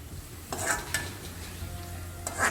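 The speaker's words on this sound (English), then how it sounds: "Keep frying until it gets golden brown." Onions sizzling steadily in a pan, frying until golden brown for Hyderabadi mutton dum biryani, with a few clinks and scrapes of stirring near the start and end; no voices.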